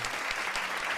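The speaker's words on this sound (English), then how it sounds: "Claps." An indoor audience claps to welcome a guest on a talk show, a dense burst of applause of steady loudness lasting about a second with no voices over it.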